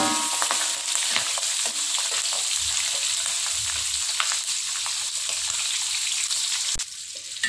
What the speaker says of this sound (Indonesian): Kita akan goreng sebentar cumi asin ini.